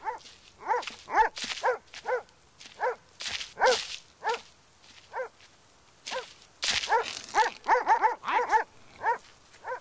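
A dog barks repeatedly in short, sharp bursts, loud and close, with brief pauses between clusters of barks.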